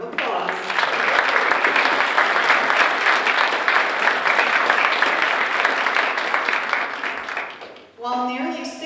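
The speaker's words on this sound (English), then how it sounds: "I think we should give them a big round of applause" A graduating senior celebration audience breaks into sustained applause for two students, a thick, even roar of clapping lasting several seconds before fading, followed by a voice starting to speak at the end.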